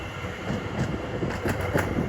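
A Greater Anglia train passes through Shenfield station on the Great Eastern Main Line, a moderate rumble with faint rhythmic wheel clatter and a few soft bursts, no voices.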